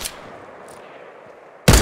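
Gunfire in a Fortnite solo match: a sharp shot opens, a low steady game ambience follows, then a loud, close burst of fire hits near the end.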